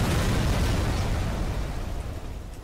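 A satchel charge explodes in the Black Mesa video game, a loud, continuous rumbling blast that fills the whole moment and slowly fades.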